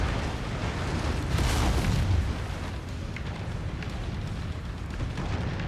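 Explosions rock a burning warehouse in the mech combat game MechWarrior 5, a dense, continuous rumble of booms with one heavier swell near the start, set against steady background noise.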